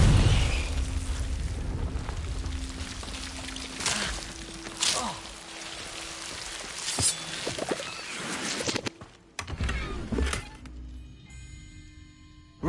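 Confringo fire spells go off in Hogwarts Legacy as a series of sharp explosive bursts, roughly four of them spaced a few seconds apart over a continuous game ambience, with a heavier crash near the end.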